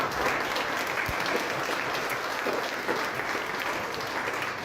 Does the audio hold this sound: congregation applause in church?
yes